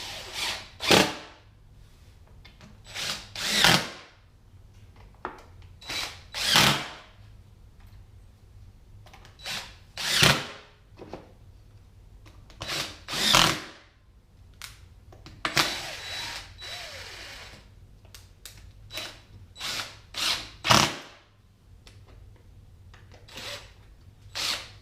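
A power drill drives screws into a wooden cutting board in repeated short bursts of whirring with pauses between, close and fairly loud, with no talking.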